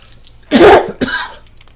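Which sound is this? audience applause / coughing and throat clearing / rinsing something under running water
coughing and throat clearing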